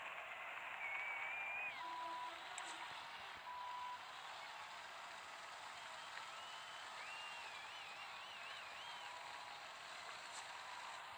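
A truck pulls away with its reversing alarm beeping, steady engine rumble and faint repeated beeps heard throughout at moderate distance, no talking.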